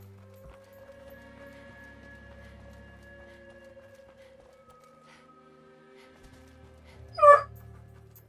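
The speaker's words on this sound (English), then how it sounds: "I'm sorry about the sounds my dog's making" A pet puppy gives a brief, sharp whimpering yelp near the end, loud and close, rising over quiet tonal game music from a Fallout 4 playthrough.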